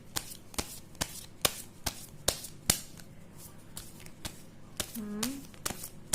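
Tarot cards are shuffled by hand in quick, rhythmic riffles and taps, close and fairly quiet, with a brief soft voice partway through.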